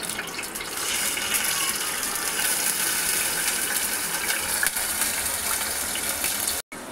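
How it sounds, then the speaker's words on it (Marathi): Water is poured from a vessel into a pan of ground masala for chicken curry, a steady close gushing splash that runs for several seconds and then stops abruptly. "थोडंसं पाणी टाकले"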